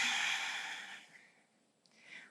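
A long, soft exhale during a standing yoga session, an airy breath fading over about a second, followed by a faint, quieter breath near the end.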